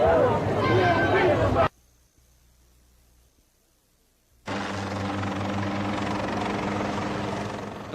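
Helicopters circle over a row of vacant houses at the Murphy Homes projects in 1980s Baltimore: loud, steady rotor roar with crowd noise, cut by a few seconds of near silence, then the heavy drone returns.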